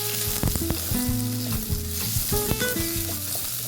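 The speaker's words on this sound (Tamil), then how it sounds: "அதுக்கப்புறம் 2 கிராம்பு சேர்த்து நல்லா வதக்கிக்கலாம்." Onion, garlic, ginger and whole spices such as cloves, cardamom and curry leaves sizzle as they are sautéed in a pan for chicken curry. Steady frying continues under repeated stirring scrapes, with no talk.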